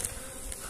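Bees buzz steadily on the hive frames of an autumn colony being readied for winter, a soft continuous drone heard alone at close range.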